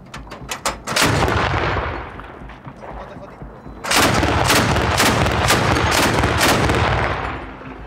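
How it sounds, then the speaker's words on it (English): Heavy gunfire in the fight against ISIS at Baghuz near the Iraqi border: a few sharp shots, then long loud bursts of rapid fire and booming blasts that fill the air. "There's a lot of gunfire still."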